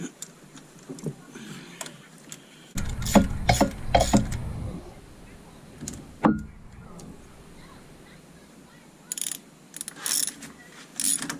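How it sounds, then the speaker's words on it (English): Metal clamp being tightened on a 1997 Dodge 3500, heard as close ratcheting and mechanical clicks and scrapes in irregular bursts with pauses between them. "put this clamp on here, tighten it down again"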